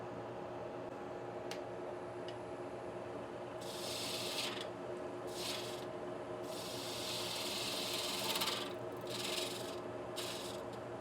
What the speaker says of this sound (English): Using my half-inch spindle gouge to just get away some bulk.